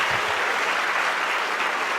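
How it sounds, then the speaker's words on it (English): Brief burst of audience applause at a student conference session, a dense even patter of many hands clapping, moderately loud and unbroken, with no speech on top. "one round of applause."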